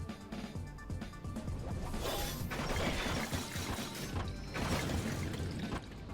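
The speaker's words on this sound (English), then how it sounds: "Saber runs, smashing away the swarming bone creatures." Saber smashing through swarming bone creatures in the Fate/Stay Night visual novel, a continuous clattering, shattering crash that swells in loud waves over a steady noisy bed, with no voices.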